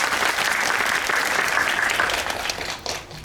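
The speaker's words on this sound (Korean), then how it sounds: "여러분 함께 우리 정지영 감독님의 40주년 축하 박수 어떠십니까?" A theater audience at a film talk event applauds a director's 40th anniversary, a dense wash of clapping that holds steady, then thins and tapers off at the end.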